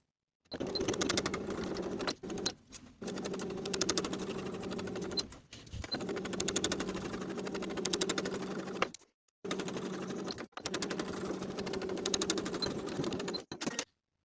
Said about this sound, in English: Then sew through this single layer of the collar stand straight across, sewing it to the neckline with a 5/8 inch seam allowance